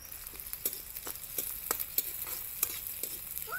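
Garlic fries in a hot pan while a spatula stirs it, with sharp scraping clicks landing every half second or so over a constant sizzling hiss.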